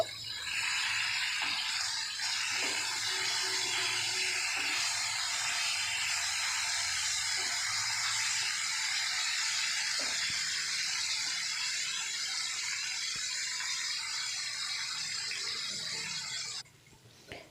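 Katla fish pieces frying in hot oil after being flipped, a continuous close hissing sizzle with faint clinks underneath, fading slightly toward the end before a sharp tap.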